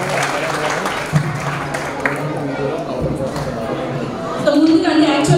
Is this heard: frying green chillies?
no